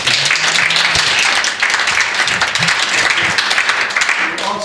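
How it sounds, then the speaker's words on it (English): Close, loud applause in a round for a man at an awards presentation, with scattered voices and cheers mixed into the steady clapping. "Give him a round of applause."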